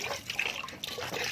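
Water poured into a birds' drinker on a rooftop, a steady close splashing trickle with light dripping throughout, no voices.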